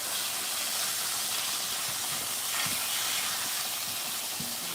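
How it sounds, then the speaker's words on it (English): Partly frozen meat cooks in a pan, giving a steady, dense hiss and sizzle that holds at an even level throughout, close, with faint pops and no talking. "And I'm going to let this meat cook."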